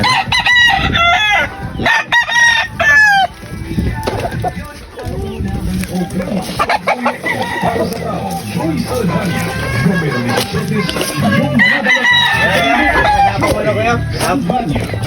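A breeding fighting rooster crows loudly and close several times, with clucking fowl around and people talking over the birds throughout.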